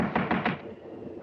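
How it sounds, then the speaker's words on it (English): Knocking on a wooden door in a 1940s house, three firm raps in quick succession, close and fairly loud, followed by a quiet room tone. "Better try knocking this time, Watson."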